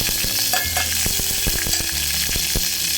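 Mustard seeds and fenugreek splutter in hot sesame oil in a pressure cooker, a dense steady sizzle broken by repeated sharp pops and crackles throughout, loud and close with no talking.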